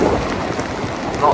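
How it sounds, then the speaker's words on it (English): Heavy rain and gusting wind at Ocean Beach, San Francisco, make a dense, continuous roar up close, steady and loud throughout the short moment. "And cold and rainy views of Ocean Beach."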